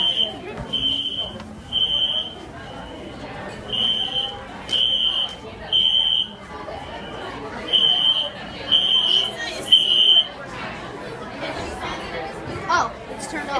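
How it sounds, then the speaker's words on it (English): Fire alarm going off in Chuck's Steakhouse, a piercing electronic tone beeping in a repeated pattern of pulses over loud restaurant chatter, with people talking nearby. "The fire alarm just went off at Chuck's Steakhouse."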